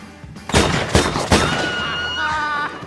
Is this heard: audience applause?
no